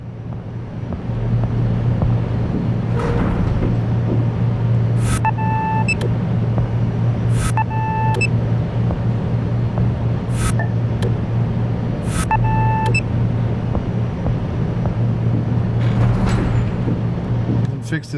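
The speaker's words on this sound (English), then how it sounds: "Open up the engine room audio." Ship engine room in the Seafarer ship sim game: a steady low mechanical drone fills the space, broken by a few short, repeated electronic beeps.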